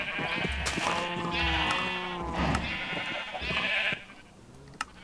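Minecraft sheep bleating in a farm pen, several wavering, nasal baa calls in quick succession, fairly close and clear, followed by a quieter stretch with a single click near the end.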